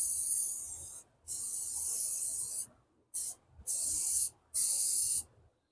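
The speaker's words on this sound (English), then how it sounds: "Painting the axle itself." Spray paint hisses onto the axle of a dual jet ski trailer in four bursts of steady hiss with short pauses between, fairly close and quiet, with no talk.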